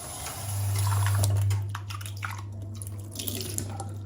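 A removable part of a DeLonghi Nescafé Dolce Gusto coffee machine is rinsed under a running tap, giving a steady close splashing stream with a low hum beneath and some dripping toward the end.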